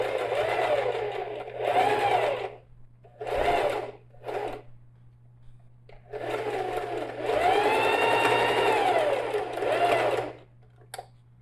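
A sewing machine stitches in short bursts and then one longer run while backstitching to reinforce a backpack strap at its adjuster, with quiet pauses between the runs.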